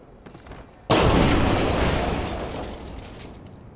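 A grenade goes off in Splinter Cell Conviction: one sudden loud blast breaks a quiet stretch, then a broad rumbling roar slowly fades away over several seconds.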